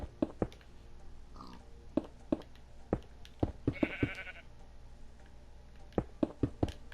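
Sheep in the Minecraft video game let out a few short, clear bleats, heard over a steady stream of small clicks and footstep-like taps.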